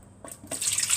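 A liter of water poured into a bowl that held onions, starting with a few splashes and building into a steady, bright pouring rush close by.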